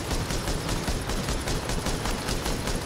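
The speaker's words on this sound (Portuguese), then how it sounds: "Eu tô dando um tiro nele" Rapid bursts of gunfire from The Division co-op video game, dense and continuous at close range throughout, with no talk.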